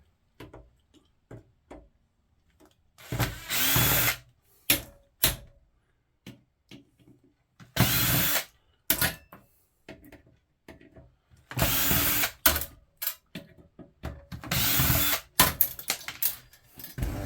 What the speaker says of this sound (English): Grab the old drill. Get the Phillips head on there